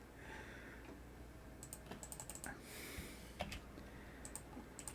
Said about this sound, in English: I am typing over here.